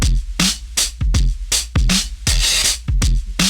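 Chopped slices of a drum break stepped through in rhythm by an ALM Turismo sequencer, punchy kick and snare hits in a steady, loud, repeating pattern with no voices.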